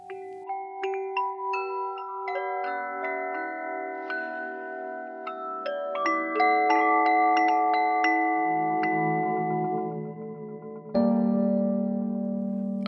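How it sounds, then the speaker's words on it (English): Wind chimes ring in a scattered, overlapping series of clear metallic tones that sustain and blend, close and moderately loud, with a brighter cluster of strikes near the end and no voices. "And a thank you to Hannah Susanna, who let me record her amazing wind chimes for this episode."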